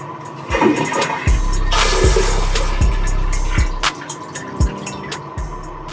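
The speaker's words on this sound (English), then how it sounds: "the automatic flushing works reliably" A smart toilet with a built-in bidet runs its automatic flush, a loud rushing surge of water that swells and then drains away, with sharp knocking thumps repeating at intervals underneath and no talking.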